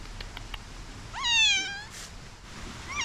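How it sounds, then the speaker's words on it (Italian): A cat outdoors in Aveiro, Portugal, gives one clear rising-then-falling meow over soft background ambience. A few faint clicks come before it, and another meow begins right at the end. "Che bellissimo sto gatto."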